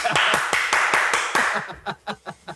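A slow run of single hand claps, loud and close at first and then softer and more spaced out, with a faint chuckle.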